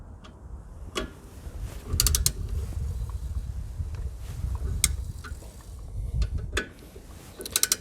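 A ratchet wrench tightens the rear brake caliper bolts on a 2001 Ford Expedition with sharp, irregular clicks and creaks. The bursts come close together at first and then space out, set against quiet garage background noise.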